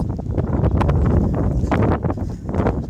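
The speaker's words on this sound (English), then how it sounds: "It's so windy. Really windy." Strong wind buffets the microphone outdoors along a path by a wall and houses, a continuous low rumbling gust that swells and eases, with no talking.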